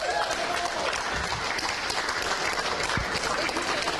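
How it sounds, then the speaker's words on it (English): Steady crowd applause for carrom championship winners carrying their cups at the US Nationals singles finals, dense continuous clapping throughout with some voices mixed in. "I think the applause should be as big as the cups they're carrying"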